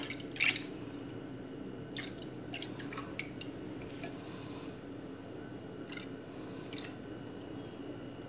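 Evaporated milk poured for Dominican arepa batter, giving faint, soft liquid drips and squishy splashes in irregular bursts against a quiet background.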